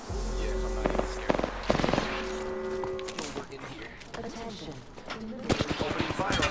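Gunfire in a battle royale shooter game, scattered shots and short rapid bursts at close to middle distance, mixed with game music tones and other game sounds, with voices speaking over it.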